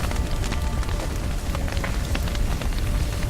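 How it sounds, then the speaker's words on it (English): Rain falling in The Witcher 3, a dense, even patter of drops on surfaces that forms a steady hiss with faint crackling and no voices. "Looks like rain."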